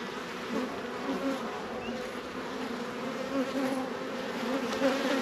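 Bees at a home beehive during a weekly check, a dense steady hum of many insects buzzing close by that continues without a break for the full five seconds.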